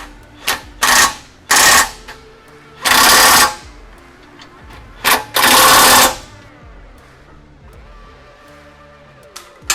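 Impact wrench with a 5/8 socket tightening bolts on a high-clearance rear bumper of a 2016+ Toyota Tacoma, loud close bursts of rattling hammering in several pulls of varying length separated by quiet gaps.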